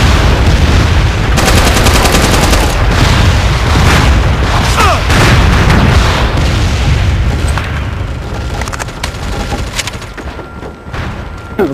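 Artillery strike explosions in the shooter game MAG, a loud barrage of heavy booms and thumps mixed with rattling gunfire, dense for several seconds and then thinning to scattered blasts.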